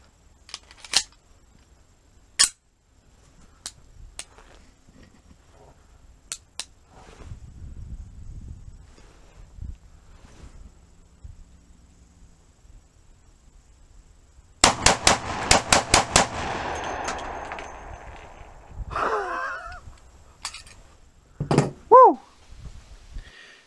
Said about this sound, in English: 7 shots, 357 mag, rapid fire.